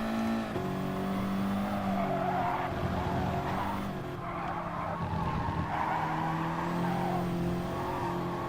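A Porsche race car in a racing video game skids with squealing tires over a steady engine drone, loud and sustained for several seconds, with a few shifts in pitch.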